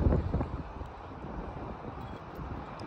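Wind buffets a microphone outdoors, with a low rumbling gust at first that settles into steady, fairly quiet blowing noise.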